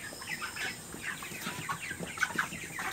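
Poultry chickens at a farm cluck softly and intermittently, scattered short calls rising over a steady hum of farm background, fairly faint and without talk.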